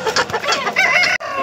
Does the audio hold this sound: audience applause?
no